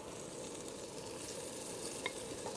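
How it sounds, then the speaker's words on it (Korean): A Korean side dish of dried pollock fries in a pan, giving a soft, continuous sizzle with faint crackles and no voices. "지글지글 이렇게 소리. 하고 있죠."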